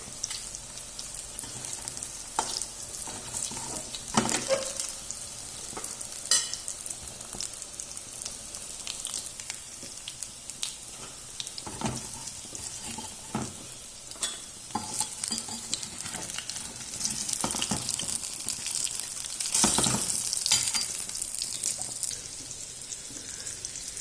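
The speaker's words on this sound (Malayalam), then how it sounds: "അപ്പോൾ ഇവിടെ വെള്ളം നല്ല തിളച്ചിട്ടുണ്ട്" Steady bubbling and hissing of water at a rolling boil, with occasional louder splashes and stirring clatter, close by and continuous throughout.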